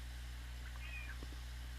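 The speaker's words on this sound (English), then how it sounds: "Yeah, and my cat's being annoying." A house cat gives a brief, thin meow, faint and somewhat distant under a steady electrical hum and background noise, with a couple of soft knocks afterward.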